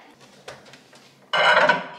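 A spoon scrapes and clinks against a microwave-safe bowl, with a few faint taps followed by a louder burst of sustained scraping as the contents are stirred close by.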